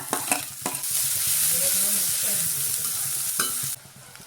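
Ground masala paste drops into a hot pan and bursts into a loud, steady sizzle after a few utensil knocks, cutting off abruptly near the end.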